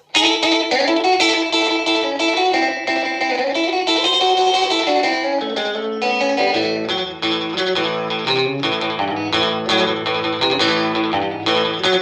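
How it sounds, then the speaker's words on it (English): Electric guitar on the middle pickup through a 1974 Fender Silverface Champ amp with a slapback echo pedal plays a steady stream of bright, slightly gritty chords and single notes with audible repeats, loud and unbroken throughout. "Echo pedal in the middle."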